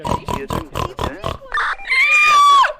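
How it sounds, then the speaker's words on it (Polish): A pig in a Transformers video game gives a rapid run of six short, even oinks, then a brief snort and a long, loud, high squeal, with no talk over it. "Robert, Ej, no świnia gdzieś tu jest."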